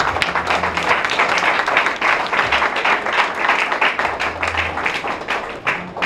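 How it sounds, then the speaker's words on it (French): Audience applause for six national deputies at a political gathering in Ituri, Congo, steady loud clapping from a crowd lasting throughout, with a faint low hum underneath. "on va vous applaudir et vous saluer en même temps"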